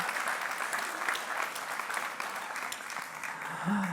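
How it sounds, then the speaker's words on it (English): A gala crowd at a humanitarian fundraiser applauds, sustained, even clapping from many hands that sounds somewhat distant and soft, with a voice rising briefly at the end. "let's give a round of applause for that"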